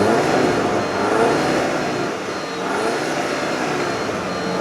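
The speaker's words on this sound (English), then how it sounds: "I'm going to give it some gas, and we're going to take a listen and see just how quiet it is" A 2013 Audi A5 Quattro with a turbocharged four-cylinder engine revs with the door open, giving a steady, fairly quiet, smooth engine drone that swells and eases slightly without sharp peaks.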